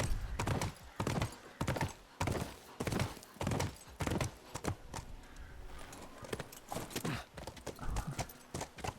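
Horse hooves clip-clop in The Last of Us video game, a loud, continuous run of close, rhythmic hoof strikes with a brief whinny-like tone mixed in.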